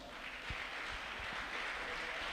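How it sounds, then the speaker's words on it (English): A graduation crowd at Quality Academics claps for the male graduates, a soft, fairly distant wash of scattered applause with a few louder thumps, steady for its short length. "I want everybody to give the males a round of applause"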